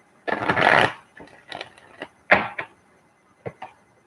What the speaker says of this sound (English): One more shuffle for Sean, UK, and his career.